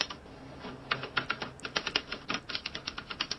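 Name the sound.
AI-generated typewriter typing sound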